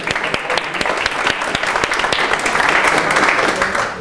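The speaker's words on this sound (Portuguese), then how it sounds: "salva de palmas" Audience applause breaks out across a live seminar, a dense wash of many hands clapping that holds steady and grows slightly fuller before easing off near the end, with no voices rising above it.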